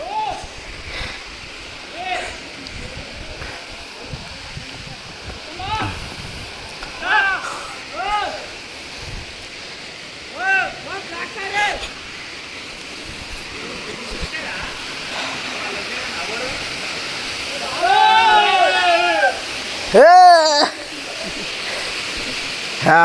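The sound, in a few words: waterfall, rushing water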